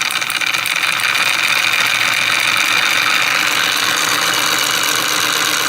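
A magnet rotor spun fast by powered coils gives off a steady, loud, even whirring hum that holds constant with no pauses.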